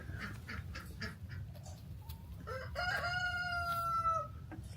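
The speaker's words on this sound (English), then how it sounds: "Beautiful chickens." Chickens at a backyard animal sanctuary on a morning, clucking steadily with a rooster crowing in a drawn-out call near the end, fairly close over a constant low background hum.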